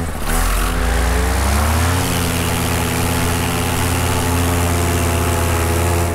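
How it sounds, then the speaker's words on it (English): A Polini Thor 202 paramotor engine runs loud and close in flight, holding a steady buzzing drone after a brief rise in pitch at the start, with no talk over it. "here we are flying the Polini Thor 202"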